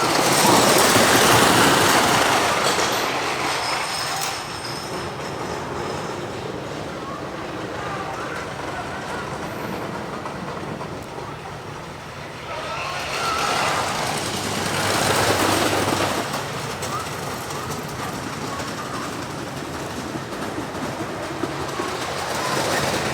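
The world's oldest wooden roller coaster runs along its track at Lakemont Park in Altoona, Pennsylvania, a continuous loud rattling roar that swells and fades as the cars travel the course.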